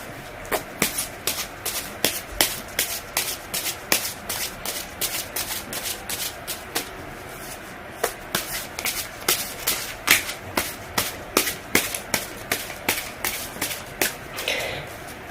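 Tarot cards are shuffled by hand in a quick, steady rhythm of crisp riffling slaps, dozens of close, distinct strokes with a brief pause midway and no voices.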